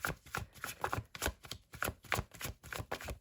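Tarot cards are shuffled in quick, rhythmic riffling bursts, close and crisp, with no talking.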